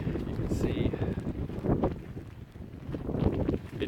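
Gusty wind on a wet, rainy day along a wilderness trail in Killarney Provincial Park, roaring steadily and buffeting the microphone with rising and falling rumbles throughout.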